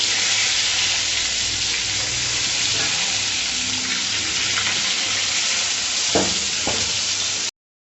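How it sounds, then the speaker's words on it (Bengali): Vegetables frying in hot oil in a home kitchen, a steady hiss and crackle of sizzling with occasional stirring clinks and knocks, continuous and fairly close until it cuts off abruptly near the end. "এগুলো একটু ভাজা ভাজা করে তুলে নিতে হবে"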